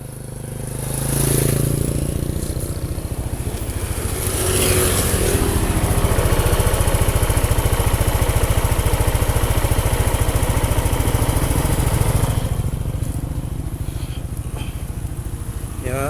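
A Yamaha NMAX scooter engine running on Fastron Techno 15W50 oil hums steadily up close, loud and continuous with a smooth idle that swells slightly in the middle.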